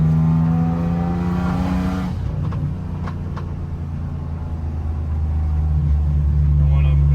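A supercharged BMW E46 M3 engine drones loud and close, its steady tone shifting as revs change, with people talking over it partway through.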